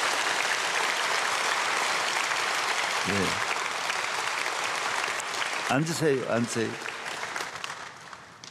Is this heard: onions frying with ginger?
no